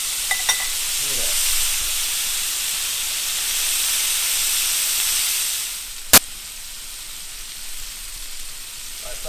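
Steak bites sear in a hot pan with a steady loud hiss, a few small pops near the start and one sharp clink partway through.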